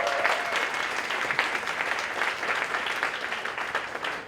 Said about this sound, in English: So clap your hands for them.